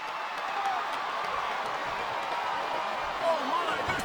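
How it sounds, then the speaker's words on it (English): Wrestling arena crowd in WWE SmackDown vs. Raw 2007 during a Booker T vs Batista ironman match, a steady broad roar of cheering that swells briefly near the end, with commentary voices mixed underneath. "I'm hearing the crowd come alive"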